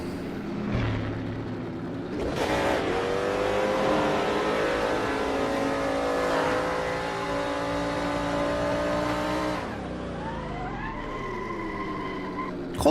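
A 1960s-style race car in a sim racing game revs hard and squeals its tires through a sustained burnout, the engine note rising and falling over a long skid, loud and close.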